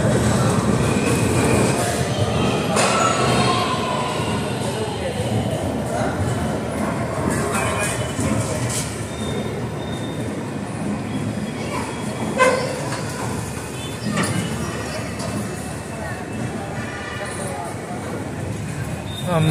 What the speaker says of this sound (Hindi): 5 मिनट रुकने के बाद अपने ट्रेन का डिपार्चर हो चुका है